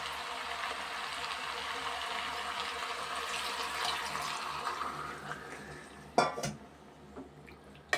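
Water pours into a cooking pan in a steady rushing stream for several seconds, followed by a brief metallic clatter of cookware, fairly quiet and close.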